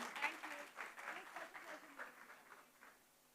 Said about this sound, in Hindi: जोरदार तालियां फॉर वानी कपूर